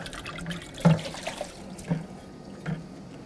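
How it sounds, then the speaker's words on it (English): Wax-coated filter papers rinsed in a bucket of water, producing soft splashing and sloshing with a few louder swishes, close and fairly quiet. "So we just take it and rinse it off in a bucket."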